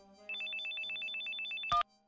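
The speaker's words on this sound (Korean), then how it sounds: "그때 외투에 넣어둔 휴대폰이 요란한 소리로 울렸다." A mobile phone rings in a horror radio drama: a short bright electronic ringtone pulsing in a quick repeated pattern for over a second, ending in a sharp louder burst, alone and close.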